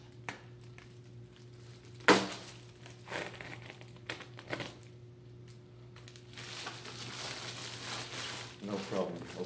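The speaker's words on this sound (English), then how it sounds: "No problem opening up that package." A knife cuts open a plastic package, making scattered crinkles and rustles with one sharp crackling snap, then a denser run of plastic rustling toward the end.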